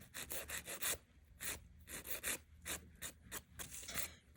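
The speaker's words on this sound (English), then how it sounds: "I'm using a 100/180 grit file. I'm starting with my 100 grit side" A 100/180 grit nail file rubbed back and forth over a sculpted acrylic fingernail, quick close rhythmic rasping strokes of roughly even pace, soft and isolated with no speech.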